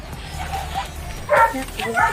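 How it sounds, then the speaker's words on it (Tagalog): Dogs bark and yip in short bursts while a person talks over them nearby. "May dogs, may mga aso mga kabulit."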